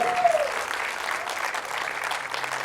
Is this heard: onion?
no